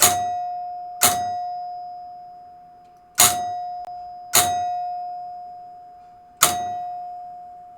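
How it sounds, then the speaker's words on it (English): Bell in the cabinet of a Spanish Eyes pinball machine struck by the plunger, five sharp metallic clangs at irregular intervals, each ringing out and decaying slowly, with a steady tone humming underneath. "that's the plunger that's in the cabinet going up and hitting the bell and then bouncing back down."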